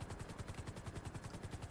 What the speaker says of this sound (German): Heli, ich hab einen Heli, ja, aber die Rotorblätter passen nicht durch.